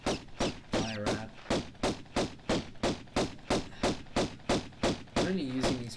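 Lara Croft fires her pistols at a rat in the 1996 Tomb Raider game, a long run of evenly spaced sharp shots in a steady rhythm, with brief game vocal sounds in between.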